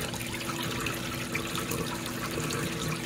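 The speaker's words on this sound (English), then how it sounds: "Now this is going to pump the water out." Drain pump of a fully automatic compact GIANTEX Easy Life washing machine pushing water out, a steady close watery rush and trickle with a low motor hum underneath, continuous and fairly quiet, with no one talking.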